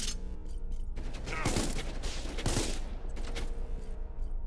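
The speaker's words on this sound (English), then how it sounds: "now we gotta shoot our way out" Dense rapid gunfire in the space game SpaceBourne 2, a continuous rattling volley of shots with sharp bursts, loud and close.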